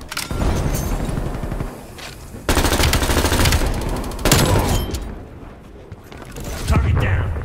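Rapid automatic gunfire and bursts in Call of Duty Black Ops Cold War multiplayer, loud and dense with bursts of fire, mixed with a shouting voice.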